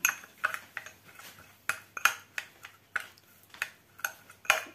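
A spoon stirs a natural eye remedy blended with oud oil in a bowl, clinking and ticking against the sides in quick irregular strokes, close and crisp with no talk.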